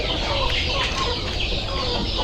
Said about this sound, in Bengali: দেখেন এই যে ভিতরে দেখা যাচ্ছে যে মোরগ আছে, সাথে মুরগি আছে, মুরগির সাথে একটা মোরগ আছে।